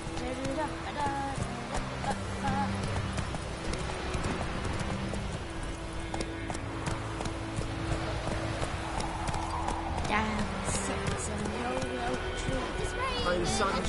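Horse hooves clip-clopping at a gallop in The Witcher video game, a steady rhythmic beat under constant game music and ambience, with occasional whinnies and a brief voice.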